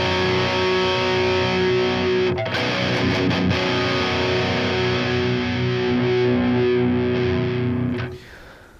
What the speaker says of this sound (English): you really give the guitar more body and a bit more aggressive edge by pushing that mid